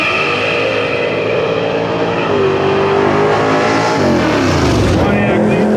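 Drag racing cars, a fiberglass Ford Victoria and a Pontiac, roar down a dragstrip at a reunion event, loud engines revving up and pitching higher as they accelerate, then sweeping past, with voices heard in the crowd.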